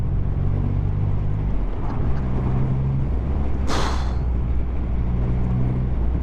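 A Triumph motorcycle engine while riding, a steady low drone with shifting tones, a brief hiss burst midway, continuous and close.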